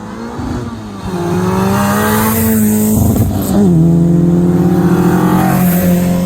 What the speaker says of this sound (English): And it sounds like a Group B car